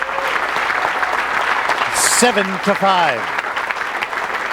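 Audience applause after a women's pool semifinal won by Karen Corr over Monica Webb in Peoria, sustained clapping under a commentator's voice, with a brief high electronic tone and a few rising whistle-like tones partway through.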